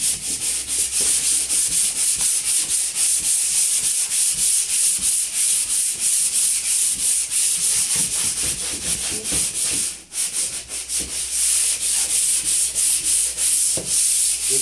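Steady abrasive sanding of small divots on a house surface, a continuous close rubbing rasp with a rhythmic back-and-forth texture and one brief pause, no talking.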